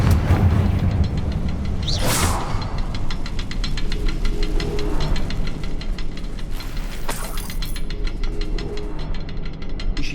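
Confringo blasting spell cast in Hogwarts Legacy: two loud, sharp fiery bursts a few seconds apart, each flaring then fading, over a constant low rumbling game ambience with no voices.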